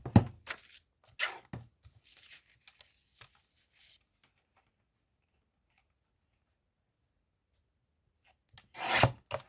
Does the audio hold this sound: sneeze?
no